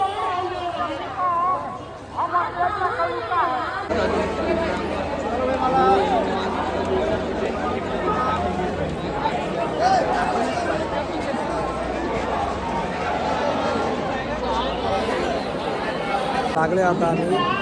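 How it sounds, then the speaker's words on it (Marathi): Dense crowd at the Hanuman temple in Ayodhya, a continuous babble of many overlapping voices and footsteps, loud and close, with a nearby voice talking over it. "गर्दी है फुल गर्दी"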